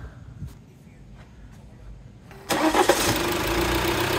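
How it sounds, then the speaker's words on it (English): Quiet background, then a modern Alfa Romeo diesel car engine cranks and catches abruptly, settling into a loud, steady idle close by. "The diesel engine still sounds absolutely sweet, a nice steady idle with no hunting issues"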